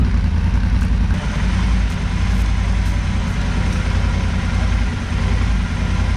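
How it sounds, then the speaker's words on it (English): A Triumph Scrambler 1200 XC motorcycle idles with a deep, meaty exhaust note, a steady low rumble that stays loud and close throughout, with no talking. "As you can hear, the exhaust note is pretty meaty, similar to, I think, you would get on a lot of Harleys."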